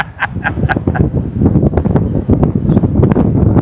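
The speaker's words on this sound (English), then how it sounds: "It's a little windy." Gusty wind buffets the microphone with low rumbling rushes, accompanied by brief clicks and rustles.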